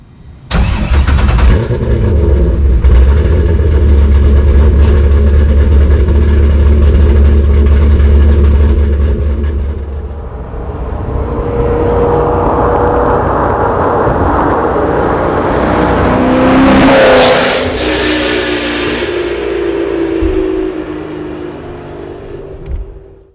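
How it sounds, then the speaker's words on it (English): A Corvette C5 engine swapped into a Chevy Blazer runs through American Racing headers, 3-inch pipes, a Bassani X pipe and Bassani mufflers. It starts up, idles loud and deep, then revs and settles close by with no talk. "The exhaust, I'm running American Racing headers, 1 7/8" to a 3-inch collector, and then I fabbed up 3-inch pipes back to a Bassani X pipe"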